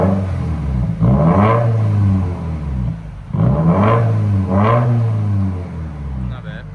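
A 2017 Subaru WRX with its 2.0L turbo engine and straight-piped exhaust, mid and rear delete, revs up loudly in three rising pulls, each climbing sharply then dropping back to a rumbling idle.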